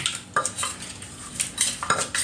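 Thai papaya salad with tomato and no chili being pounded in a mortar with a pestle: a close, uneven run of hard knocks and clattering scrapes, with no voices.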